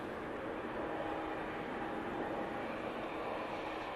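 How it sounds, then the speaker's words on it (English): A TUI Boeing 787-9 Dreamliner arriving at Manchester Airport from Montego Bay, heard as a steady, broad jet roar that holds constant throughout with no voices. "And it is the TUI 787-9 Dreamliner coming in from Montego Bay."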